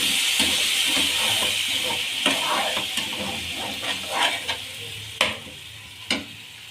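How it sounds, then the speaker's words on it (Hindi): Tomato paste is stirred into onions frying in a pan with ginger-garlic paste for a masala baingan dish. A steady close sizzle runs throughout, broken by irregular scraping strokes of a spoon. "अब हम इसके अंदर 2 अदद टमाटरों का पेस्ट डालेंगे।"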